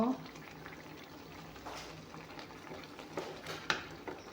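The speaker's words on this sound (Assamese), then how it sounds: "এয়া চাওক আঞ্জাখন ধুনীয়াকৈ উতল আহিছে।" Fish curry with pumpkin simmers in a pot, a soft, steady bubbling and hiss with a few faint clinks, heard under a woman's speech.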